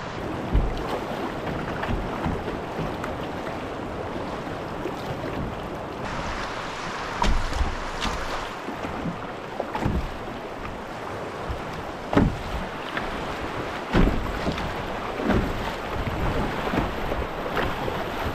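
Canoe running river rapids, with steady rushing water and wind buffeting the microphone, broken by occasional paddle splashes and knocks.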